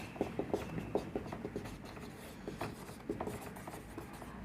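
Chalk or marker scratches on a classroom board during an economics lesson, quick irregular strokes and taps at close range, faint and alone without talk.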